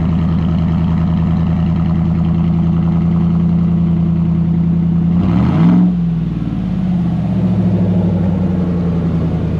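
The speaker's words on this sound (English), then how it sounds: "Get a little baby rev." A Chevrolet Silverado pickup with a new exhaust idles with a deep, steady rumble, then gets one short rev that swells and falls back to a loud, throaty idle.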